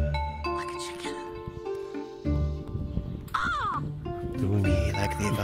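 A person imitates a crow with loud, harsh caws, performed live over busy background music and other voices in a lively online dance gathering.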